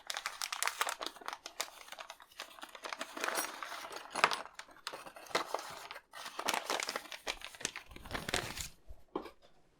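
A paper bag holding model kit parts is torn and opened, giving close crinkling, rustling and tearing sounds in irregular bursts with no talking.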